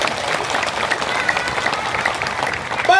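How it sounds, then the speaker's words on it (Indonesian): Audience applause at a religious lecture in Manokwari: dense, steady clapping from a large crowd, fairly loud and continuous throughout, with a brief tonal sound rising near the end. "Tepuk tangan untuk Indonesia."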